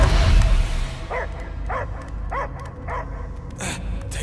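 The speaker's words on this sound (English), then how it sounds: "I hear only barking." A dog barks in the Guardians of the Galaxy video game, a series of about six short, evenly spaced barks and yips over a low rumbling game ambience, with no talk over them.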